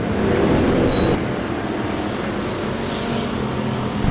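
Race cars roar around the oval at Lake Ozark Speedway during a heat race, a loud, continuous engine drone that swells and fades slightly as the pack passes.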